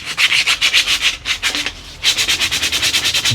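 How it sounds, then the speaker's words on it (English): Rhythmic back-and-forth rasp of 120-grit sandpaper rubbing over an old wooden screwdriver handle, close and steady, with a brief pause midway before the strokes resume faster. "I'm just going to give this a good sanding over"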